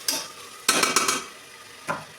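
Masala powder and biryani spices fry in a pan while being stirred, giving three separate bursts of scraping and crackle with quiet sizzling between them.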